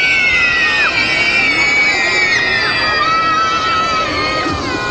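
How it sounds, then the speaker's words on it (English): A crowd of children screams together on cue at a meet-and-greet with costumed Ariel and Belle characters. The shrieking is loud, close and continuous, with many overlapping voices for several seconds. "After three, I want you to scream at top of your voices."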